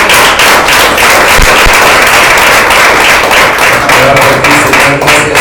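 Loud, steady applause from a congregation clapping for God during a church service, a dense continuous patter of many hands throughout with no talk over it.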